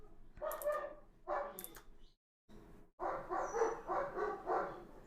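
German shepherd dogs barking in short bursts at home, a few loud close barks separated by pauses, with some yips and whimpering mixed in and faint voices in the background.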